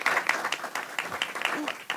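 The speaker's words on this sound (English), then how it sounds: "Laura, please give her another round of applause." Audience applause at a panel event on food as medicine, a dense spread of hand claps from a crowd, steady and fairly loud throughout.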